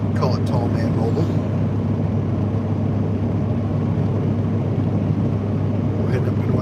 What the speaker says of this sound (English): We are driving a Ford F-350, pulling a 37-foot travel trailer.